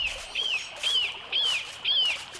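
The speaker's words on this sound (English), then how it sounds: "Small birds always scatter when there's a hawk around." Small birds give four evenly spaced, high chirps as they scatter in alarm from a hawk near a tall pine, each call sharp and fairly close, with a faint outdoor hush between calls and no talking.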